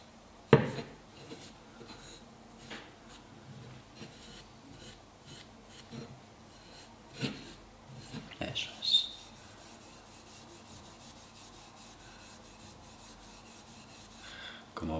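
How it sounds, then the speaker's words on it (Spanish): Oil being rubbed by hand onto the wooden handle of a Japanese deba fish knife, with soft, quiet rubbing and scuffing strokes, a few sharper taps and clicks, and a faint background hum. "vamos a aplicar suavemente el aceite sobre la superficie de la madera"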